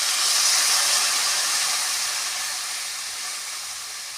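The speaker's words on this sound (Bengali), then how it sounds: "ভাজা হয়ে গেছে, পরিমাণ মতন জল দেবো।" Water poured into a hot pan of fried spiced rohu fish with potato, bitter gourd and drumstick stalks, a loud, steady steaming hiss that fades slightly as it continues, with no talk.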